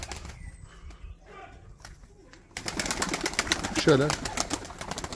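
Tumbler pigeons in a loft, wings fluttering and birds shuffling close by, with a brief warbling coo near the end, under a voice and background chatter.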